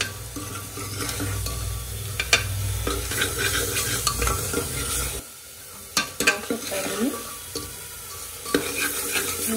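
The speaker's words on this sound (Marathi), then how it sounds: "मसाल्याला चांगलं तेल सुटलं आणि छोले टाकूया" Boiled chickpeas go into masala frying in oil for a chole gravy, a steady sizzle with a low rumble that drops away, followed by sharp spoon knocks and stirring scrapes.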